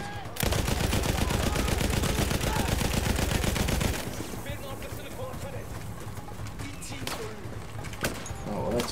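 Rapid gunfire in Battlefield 1 as enemies are cleared from a village, a loud steady stream of shots for several seconds that stops abruptly, leaving scattered distant battle noise while someone talks.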